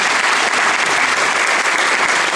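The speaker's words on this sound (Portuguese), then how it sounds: "Vamos aplaudir a palavra de Deus." A church congregation claps together after a scripture reading, a dense, steady wash of hands held at full volume with no break across the whole stretch.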